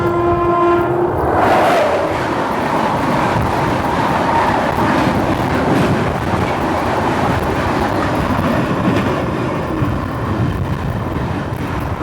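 The KSR Bengaluru–Belagavi Superfast Express crosses close by, heard from aboard the Shirdi–Mysuru Express: a brief horn at the start, then a loud, steady roar and rattle of passing coaches for the whole stretch.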